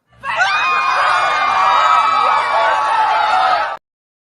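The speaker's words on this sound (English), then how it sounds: "The screaming you're hearing is a sound effect." A dense screaming crowd sound effect, shrill overlapping cries and whoops held at steady loudness for nearly four seconds, then cutting off abruptly.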